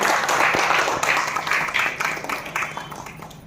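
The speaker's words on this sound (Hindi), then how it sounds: "आप लोग ताली बजाकर स्वागत करेंगे।" An audience at an award ceremony claps in welcome, a fairly distant, steady patter of many hands that gradually fades, with some room noise underneath.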